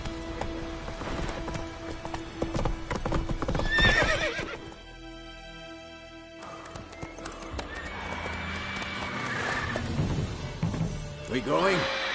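Roach, a horse in The Witcher 3 video game, whinnies and gallops with steady clip-clop hoofbeats, loud and close, with music and game voices talking over parts of it.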